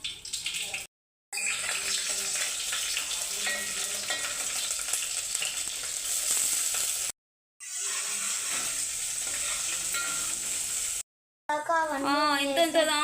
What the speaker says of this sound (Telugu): పోపులన్నీ వేసేస్తున్నాను